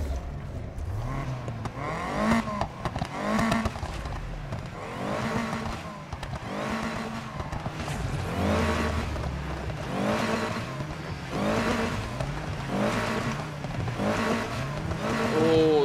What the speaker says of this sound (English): That does sound really good, that engine noise.